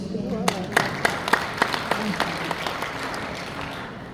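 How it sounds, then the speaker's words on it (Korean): A church lecture audience gives a burst of applause, with dense, steady clapping from many hands filling the room and voices murmuring underneath. "박수."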